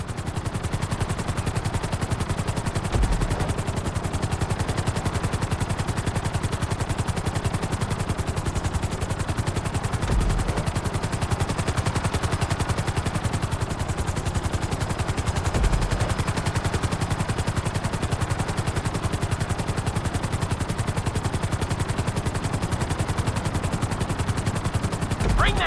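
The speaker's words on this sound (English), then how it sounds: "Bring the helicopter down gently onto the helipad." Helicopter in Grand Theft Auto V flying in a lesson, a loud steady rotor and engine drone that runs without a break.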